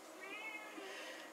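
A pet cat meows briefly and faintly inside a motorhome, a short wavering cry standing alone with no talk over it.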